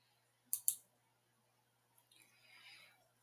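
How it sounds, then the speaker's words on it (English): A computer mouse gives two sharp, close clicks in quick succession, then a brief faint rustle follows in an otherwise quiet room. "you will click the bar that says Pre-K Student Application."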